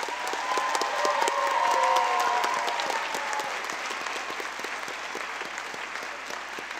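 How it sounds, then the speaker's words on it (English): Audience applause for students at a school promotion ceremony, a steady wash of many hands clapping in a hall that holds for several seconds and then thins out gradually. "A round of applause for these students,"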